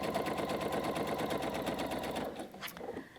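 Sewing machine stitching a quilt strip for a Hunter Star quilt, a close, rapid steady needle chatter that runs evenly and then slows and stops near the end.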